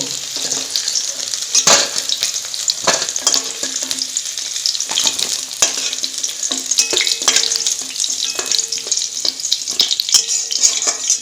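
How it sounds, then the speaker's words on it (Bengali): Cubes of paneer frying until browned in a pan of hot oil for a home-style vegetable dish: a loud, steady, close sizzle with occasional scraping from stirring, and no speech. "পনিরটা লাল লাল করে ভাজা হয়ে গেছে"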